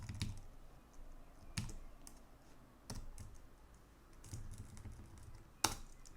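Computer keyboard typing while entering customer field labels into an IBM i AS/400 screen design tool: quiet irregular key clicks in small bursts, with a sharper louder keystroke near the end, no talking.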